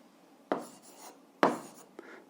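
Pen strokes scratch on paper while an algebra solution is written out, two distinct scratchy strokes followed by a lighter tap, close and quiet.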